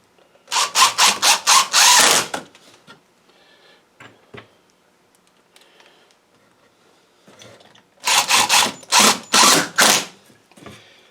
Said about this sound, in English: I'm going to put this in with some screws.